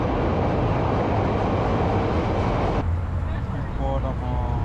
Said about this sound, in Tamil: ஸோ ட்ரெயின் எந்த பக்கம் வரும்னு தெரியல